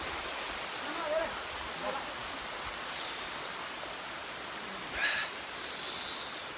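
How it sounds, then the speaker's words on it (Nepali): Gaighat waterfall in Nepal gives a steady broadband rush of falling water, close and continuous, with brief faint voices or splashes rising over it now and then. "झर्ना यस्तो छ"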